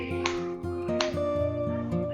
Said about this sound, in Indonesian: Bapak Ibu silakan tepuk tangan 2 kali